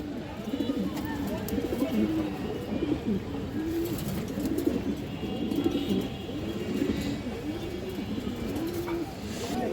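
Pigeons, including a female racing pigeon, cooing in repeated low throaty rolls, close and continuous, with a soft background murmur and faint chirps.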